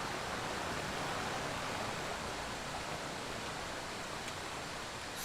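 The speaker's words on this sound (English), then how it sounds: "that waterfall is so fucking loud" A loud waterfall pours in a steady, dense roar that fills the whole clip without a break.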